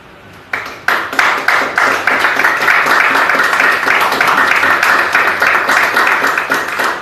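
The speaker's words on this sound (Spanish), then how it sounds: "Que le da un aplauso al Señor." A church congregation bursts into sustained applause for the Lord, dense clapping rising suddenly after a quiet start and continuing loud and steady to the end.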